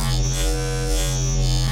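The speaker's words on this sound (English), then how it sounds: "it's going to cut out all the even overtones and just leave the odd overtones" A loud, continuous wavetable synth tone with only odd overtones buzzes with a hollow, reedy timbre, its brightness pulsing gently in a slow wobble throughout.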